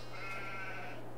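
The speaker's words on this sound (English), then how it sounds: "The sheep's still doing good since overnight." A sheep in a farming video game bleats once in a drawn-out, wavering call, moderately clear over a low, constant game hum.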